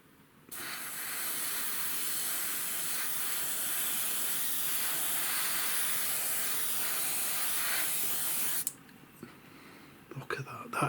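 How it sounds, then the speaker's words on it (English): Thinned Kaleido Colorworks paint sprayed in one long continuous hissing burst lasting about eight seconds, close and steady, then cutting off abruptly into quiet with a few small handling clicks. "I'll spray my very last one with a bit of thinner on it in it to see how it sprays when it's thinned down."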